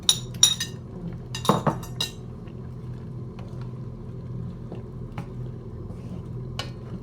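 A lid clinks and clatters onto a pot of green curry made with milk and squash, a few sharp metallic taps in the first two seconds, then a quiet low simmer with faint occasional ticks.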